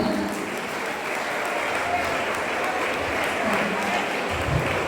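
Audience applause at a school Labour Day stage event, a dense, steady clatter of many hands clapping loudly throughout, with voices faintly mixed in.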